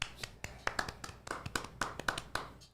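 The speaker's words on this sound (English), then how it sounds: "Golf clap for Jed." Light, polite golf clap from a few hands on a Chicago sports talk show, about a dozen soft separate claps in an uneven rhythm, close and brief.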